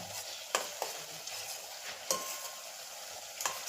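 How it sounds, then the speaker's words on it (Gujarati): A spoon stirs chopped garlic through oil in a pan, with a steady soft sizzle and several sharp scrapes and taps of the spoon against the metal. "આખામાં આપણી ચમચી ફરે એ રીતનું આપણે મિક્સ કરવાનું છે"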